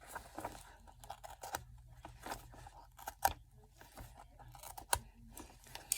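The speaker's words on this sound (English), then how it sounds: "let's cut these papers out." Scissors cutting out paper pieces for a folio cover, irregular quiet snips and crisp crunching cuts in uneven bursts, close and faint.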